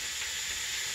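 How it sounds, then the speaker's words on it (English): Carrots frying in a pan for a Chinese noodle dish give a steady, bright sizzle, close and continuous with no talk. "if you fry the carrot a little bit"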